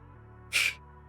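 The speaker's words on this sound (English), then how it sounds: "exhale in short bursts" A single short, forceful breath burst from a breathing exercise, a brief hissing exhale heard close and fairly quiet over a low background hum.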